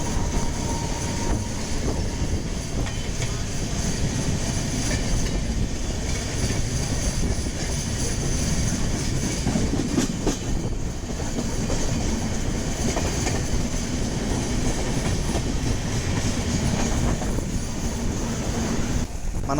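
A passenger train runs at about 130 km/h after crossing Dwarapudi station, heard from on board as a loud, steady rumble with clickety-clack of wheels on rail joints and wind noise, with no talking.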